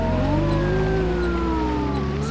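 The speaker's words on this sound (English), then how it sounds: "It's a police siren" A police siren in the SpongeBob Lights, Camera, Pants! video game: a steady, loud, close wailing tone that slowly glides in pitch over a constant engine-like drone, with no voices.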